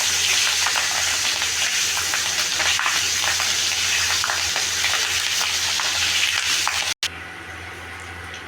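Food fries steadily in a pan for an evening snack, a dense continuous sizzle close by, broken by a brief sharp cutoff near the end before the sizzle resumes slightly softer.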